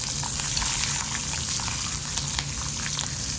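Green chillies sizzle and crackle steadily in hot oil in a pan while cooking avalakki bath, a dense close frying hiss with faint popping throughout.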